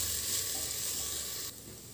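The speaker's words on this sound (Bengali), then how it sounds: "একসঙ্গে ভালোভাবে কষিয়ে নেব।" Rice and fried vegetables are stirred with spices in a pressure cooker, a soft continuous sizzle and hiss with faint scraping, close but quiet, dropping a little in level near the end.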